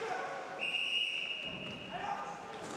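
At an Icelandic men's top-league ice hockey game, a referee's whistle sounds as one sustained shrill blast of about a second and a half, heard through the roar of the arena crowd.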